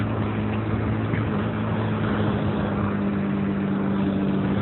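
A Honda CBR 125 R motorcycle engine idles close by, a low continuous rumble with a constant hum and no change in pitch throughout.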